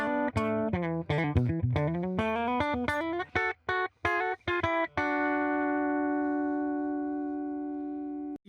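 Electric guitar run through a compressor pedal, playing a quick series of picked notes that ends on a long, evenly sustained chord ringing out cleanly for several seconds.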